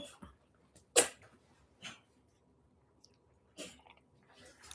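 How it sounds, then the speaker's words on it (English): A few short, sharp sneezes from a cat, spaced apart, close by in a quiet room with faint breathy sounds between them. "My cat's like sneezing."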